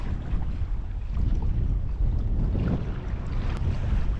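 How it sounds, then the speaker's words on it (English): Strong wind buffets a Hobie Compass kayak under sail, a steady loud low roar of wind noise with water rushing beneath, continuous throughout with no voices. "It's just too windy."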